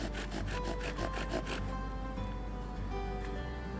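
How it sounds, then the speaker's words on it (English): An Egyptian bow drill spins fast against wood, giving a rapid back-and-forth rubbing rasp for about a second and a half before easing into a quieter, steady friction hum. "Now I'm going to go fast."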